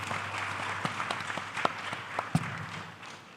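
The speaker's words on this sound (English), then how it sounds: "Can we all give a round of applause to that response" Audience at a national data privacy conference gives a round of applause, moderate clapping with a few sharp individual claps standing out, fading toward the end.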